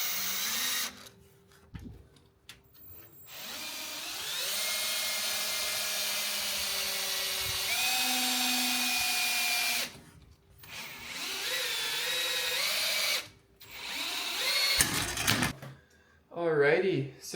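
A power drill spins up and runs in sustained whirring bursts, twisting wire for a tensor ring, with pauses between runs and a person talking over and between them.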